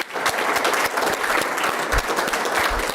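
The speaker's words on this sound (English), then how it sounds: "So a quick round of applause for them." At a city commission meeting, a small audience gives a short round of applause, with dense, lively clapping close by that carries on through the whole moment.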